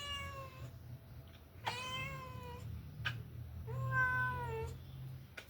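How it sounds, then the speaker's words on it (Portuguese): A pet female cat meows several times close by, with high, drawn-out cries spaced a second or so apart over a faint room hiss. "Essa é minha gata, ela é tipo o amor da minha vida."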